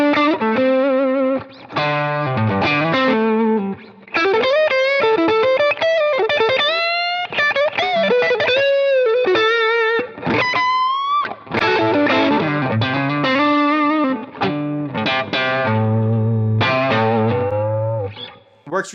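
A Fender Telecaster fitted with a 1971-style pickup plays through an overdrive pedal, producing a punchy, gritty tone with chords and single-note runs. Phrases are separated by brief pauses, close and loud, with no voice.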